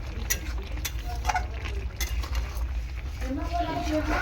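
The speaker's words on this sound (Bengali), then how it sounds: "নাড়াচাড়া করে নিই।" Vegetables in a home-cooked vegetarian curry are stirred around a pan, giving soft scraping, clinking utensil sounds and a low cooking hiss at steady, close range, with a voice talking over part of it.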